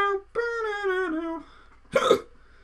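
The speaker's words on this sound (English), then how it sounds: "Wait, are these hiccups actually carried on for about 7 minutes?" Repeated hiccups from a person during a FIFA 17 Rangers career mode session: a few drawn-out, voiced gulping sounds followed by a sharp, noisy hiccup burst, close and fairly loud with no talk.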